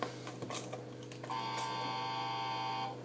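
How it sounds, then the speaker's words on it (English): A Melissa & Doug toy doorbell house chime rings out after a few light clicks and taps, holding a bright electronic tone for about a second and a half before cutting off. "That's the bell noise."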